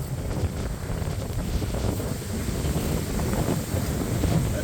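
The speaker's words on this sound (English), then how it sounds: "The wind's blowing like crazy." Strong wind blows steadily and loudly across an outdoor microphone, a continuous roaring buffet with gusty low rumble and no speech.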